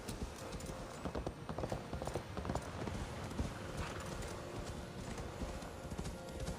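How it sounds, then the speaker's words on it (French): Steady clip-clop of horse hooves galloping at a quick, even pace, continuous and fairly close, with a busy Assassin's Creed Valhalla game-world background behind it. "on va remonter à cheval parce qu'apparemment"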